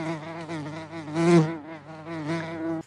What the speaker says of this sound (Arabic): طنين النحلة.